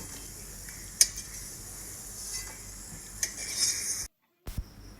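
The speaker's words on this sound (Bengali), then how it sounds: "দু সাইড খুব ভালো করে ভেজে নিয়ে বড়াগুলোকে নামিয়ে নিচ্ছি এখন বাকিগুলোকে এর মধ্যে দিয়ে দেব" Red lentil fritters (musur dal bora) frying in a wok, a steady close sizzle with a few sharp clinks of a utensil and a brief gap of silence near the end.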